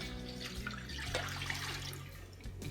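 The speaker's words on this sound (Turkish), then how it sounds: "Şimdi ben bunun içerisine 1 litre su ilave edeceğim." A litre of water pours steadily into a homemade brine of vinegar, lemon salt and rock salt for a mixed summer vegetable pickle, a close, continuous splashing rush with no talking.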